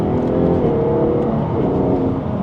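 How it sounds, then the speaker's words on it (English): Jaguar F-Type engine in dynamic mode revving hard as the throttle is floored, a loud, steady, close-up roar sustained throughout with no talking. "I can smash the throttle"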